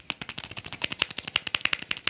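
Keys on an iPad Pro Smart Keyboard Folio clicking in quick, uneven succession, a dense patter of light, crisp taps heard close up with no talking.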